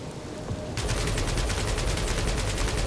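Rapid automatic gunfire from Marvel's Guardians of the Galaxy, played on Xbox Series X, rattles in a dense, steady stream of shots after a brief quieter lead-in, loud and continuous to the end.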